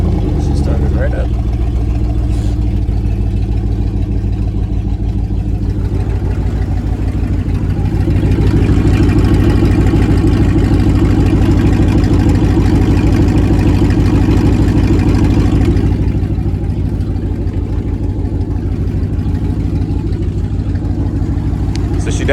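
A loud Dodge Dakota R/T truck engine with an exhaust leak idles steadily up close, a low rumbling throb that holds throughout with slight swells.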